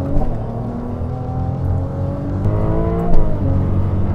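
A Ferrari 296 GTB pulls out of a corner on a race circuit, engine rising in rapid revving sweeps with gear changes, close and loud, with no talk.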